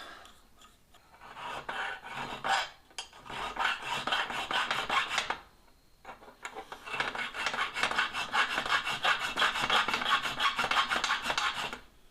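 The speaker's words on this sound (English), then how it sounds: "we will cut that in with a triangle file" A triangle file cuts into metal while a new tap wrench is forged from scrap, producing loud, close, rhythmic rasping strokes in two long bursts separated by a short pause.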